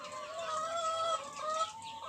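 Young chickens in a netted enclosure cluck steadily, a dense overlapping chorus of several birds at close range with no voices.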